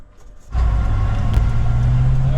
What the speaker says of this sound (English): Alright, test riding this Cherokee, see what's up.